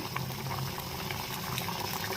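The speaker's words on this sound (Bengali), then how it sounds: "এটা ফুটছে" A pot of curry bubbles at a steady, soft simmer, a faint continuous gurgling heard alone.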